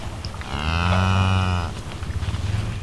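A cow lows once, loud and close, a long drawn-out moo among a herd of cattle at a free campsite in Colorado, with outdoor rustling after it and no talking.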